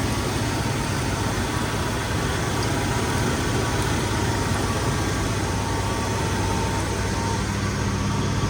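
An old motor engine, run after about 30 years of sitting, idling steadily at close range, a continuous even rumble with a faint rattle, running alone for several seconds.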